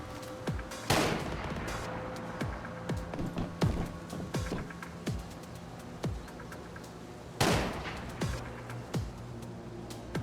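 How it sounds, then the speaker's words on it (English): Gunfire rings out in the survival shooter Once Human, with two heavy booming shots and a scattering of sharper, fainter single cracks spread irregularly over a steady ambient background, and no talking. "Whoever is shooting there, a horrible shot."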